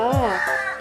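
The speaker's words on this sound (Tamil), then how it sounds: "காக்கா வந்துருச்சா" Close by, a crow gives a single drawn-out, nasal caw that lasts under a second, with a voice present.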